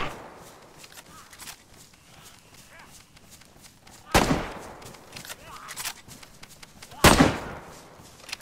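Two sharp, loud gunshots crack out about three seconds apart in the DayZ video game over a quiet woodland backdrop, with faint voices in between.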